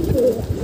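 A white pigeon on a rooftop loft gives a single short, soft coo, close and clear against quiet surroundings.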